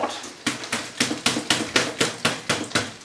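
Repeated firm taps on a plant pot holding a cymbidium orchid, loosening the root ball: about eleven sharp, evenly spaced knocks in a steady rhythm, close and fairly loud, with no voices.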